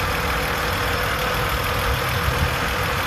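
A 1991 Mercedes 300CE W124 with a 3-liter inline six idles nearby, a loud, even, continuous engine drone with no speech.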